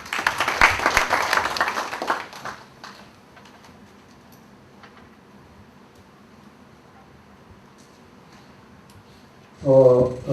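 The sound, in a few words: delegates applauding at a union meeting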